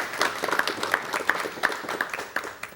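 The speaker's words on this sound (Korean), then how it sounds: "우선 전 선생님 박수로 맞이해 주시면 대단히 고맙겠습니다" A studio audience on a 1986 Korean television talk show claps to welcome an elderly high school basketball coach, with moderately soft, steady applause and a few sharper individual claps recurring in a loose rhythm.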